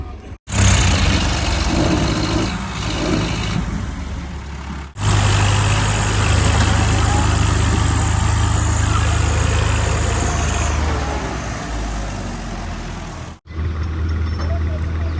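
A tractor engine labours hard and close while hauling a trolley stuck in the ground; a continuous heavy rumble runs nearly the whole time, briefly cut twice, with no other clear sounds over it.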